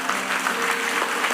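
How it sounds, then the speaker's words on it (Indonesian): A church congregation applauds during a sermon, a dense continuous roar of many hands clapping, loud and even across a short burst. "Berikan tepuk tangan buat Tuhan."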